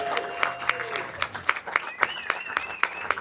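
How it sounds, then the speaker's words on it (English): Scattered applause breaks out for city community services staff at an outdoor birthday celebration in Laguna Beach, a modest gathering clapping in uneven bursts, with a faint tone and background murmur beneath. "So please, a round of applause."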